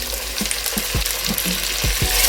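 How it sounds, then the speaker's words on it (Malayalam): Sliced tomatoes frying with onions in a pan for chicken vindaloo, a steady close sizzle with a few soft stirring clinks and scrapes spaced through it, no voices. "ഇനി ഇതിലേക്ക് നമുക്ക് 2 തക്കാളി ചെറുതായിട്ട് സ്ലൈസ് ചെയ്ത് ഇട്ട് കൊടുക്കണം."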